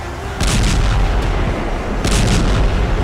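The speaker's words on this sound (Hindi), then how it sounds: "वजह है एटमी धमाके।" A booming explosion sound effect for an atomic blast, heavy, loud and rumbling, with two rolling bursts that swell and fade back into a sustained low roar.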